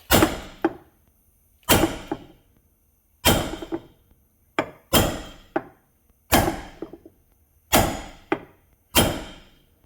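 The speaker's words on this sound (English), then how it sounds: "let's take a hammer and a drift. See if I can't knock that back in place" Sharp metallic hammer blows on a drift punch, driving a sagging Chevrolet Silverado door hinge pin, land one at a time about every second or two, each ringing briefly before fading, loud and close.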